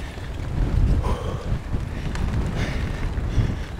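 Wind buffets the microphone outdoors on a hillside hike, a loud, continuous low rumble with gusty swells and no talk.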